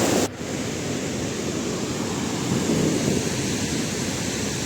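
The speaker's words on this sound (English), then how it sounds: "here we are witnessing the Rupin river in a proper way" The Rupin River in Himachal Pradesh rushes steadily along a mountain trekking trail, a continuous loud broadband roar with slight wind buffeting and no pauses.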